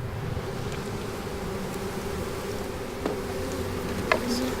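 Honey bees swarm around beehives in a garden on Crete, giving a steady, dense buzzing drone that holds evenly throughout with no talking.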